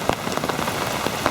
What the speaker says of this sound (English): Talawakala area experienced heavy rains this morning.